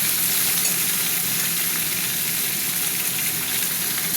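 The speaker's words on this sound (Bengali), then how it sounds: "আজকে আর আলাদা করে বেগুন ভাজবো না, বেগুন আলুর সাথে আমি ভাজবো। এটা ভাজা হতে থাক।" Eggplant and potatoes fry together in a pan, giving a steady, dense sizzle that holds at an even level throughout with no voices.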